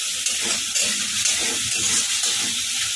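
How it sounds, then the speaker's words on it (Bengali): Peanut paste stirred into a hot frying pan, a steady close sizzle and hiss with soft repeated scraping strokes of stirring running through the whole stretch. "এবার দিয়ে দেবো বাদাম বাটা। এটা দিয়ে একটুখানি নেড়ে নিচ্ছি।"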